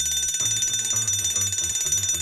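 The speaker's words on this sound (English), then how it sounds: "If a catastrophic emergency occurs, the general alarm is signaled followed by an abandoned ship announcement over the PA system." Ship's general alarm bell rings aboard a vessel, a rapid rattling metallic clang in repeated bursts with a steady high tone above, loud and close with no voices.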